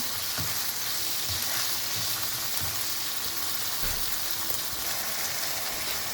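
Peas sizzle and fry steadily in a hot pan while macaroni is being cooked, a continuous close crackling hiss with occasional stirring scrapes and no talk.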